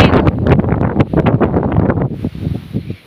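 Strong wind batters the microphone on a steep, open mountaintop near the Chocolate Hills, roaring in loud, irregular gusts that ease slightly near the end.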